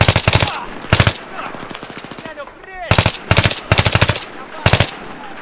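Gunfire in the video game Battlefield 3: loud automatic bursts of rapid machine-gun shots repeat in clusters, with brief gaps between them and faint voices in the background.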